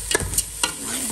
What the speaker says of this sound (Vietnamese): Bây giờ mình đổ vô để mình rang. Rang chung với cái hành nè.